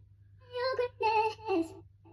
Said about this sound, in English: I brought in some vocal chops, yeah, which sound like this.